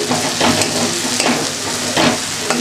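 Spice paste for a boal fish curry fries in oil that has separated from the masala, a loud, close sizzle broken by rhythmic scraping strokes of a stirring spoon.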